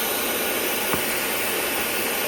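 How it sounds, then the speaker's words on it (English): A hair dryer blows hot air onto a sticker stuck to a car's paintwork, a steady, loud, even whoosh that holds unbroken for the whole stretch with no talking. "then do the hair dryer just to make sure it's gonna come off really easily"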